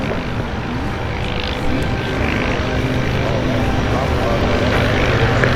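A T-6 aircraft landing on the third lane at Oshkosh during the EAA AirVenture 2018 arrivals, its propeller engine a loud, steady drone that stays constant from start to finish.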